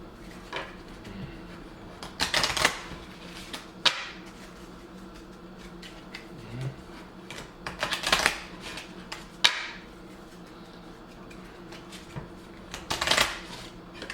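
A deck of cards gets riffle-shuffled at a tabletop game, three quick crisp bursts of fluttering cards spaced several seconds apart, with soft handling and tapping sounds between them.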